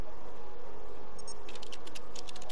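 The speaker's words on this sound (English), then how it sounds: "it's very ASMR to hear keyboard clicking" Quick bursts of keyboard clicks in the second half over a steady hum, typing that is light and close, with no one talking, in the video game Stray.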